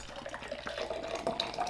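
Pepsi Nitro poured from a can into a glass makes a steady, soft, fizzing liquid rush with a faint ringing tone, continuous and fairly quiet throughout.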